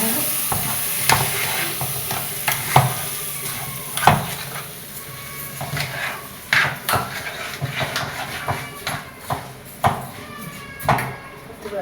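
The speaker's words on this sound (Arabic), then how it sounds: "نحطها بقى على الرز بتاعنا. نقلب كده هنا." A spoon stirs fried, browned vermicelli into rice in a pot on a home kitchen stove, with steady scraping and soft sizzling, occasional sharp clinks against the pot, and a voice talking over it.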